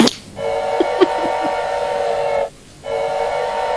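A train rolls along in the horror video game Choo Choo Charles, a steady mechanical drone with a few clanks near the start and a brief drop in the noise toward the end.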